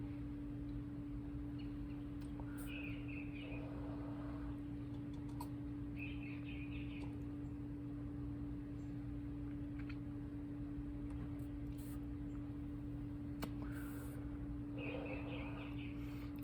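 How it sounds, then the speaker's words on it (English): Faint bird chirps come in short bursts at intervals outdoors, over a steady low hum and background noise. "Do you hear the birds?"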